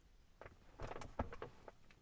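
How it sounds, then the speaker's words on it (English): The armrest of a Maxus T90EV electric pickup truck creaks and clunks softly as it is moved, a few brief squeaky knocks in quick succession, close and fairly quiet. "Right, so this creaky armrest."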